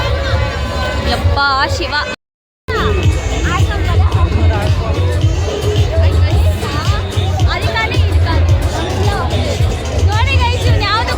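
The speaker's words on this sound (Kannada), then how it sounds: "ಎಷ್ಟು ಕ್ರೌಡ್ ಇದೆ ನೋಡಿ ಗೈಸ್." A dense crowd at the Nandi fair chatters and murmurs all around, with nearby voices, shouts and bustle layered over a constant low rumble, while someone speaks a short exclamation close by.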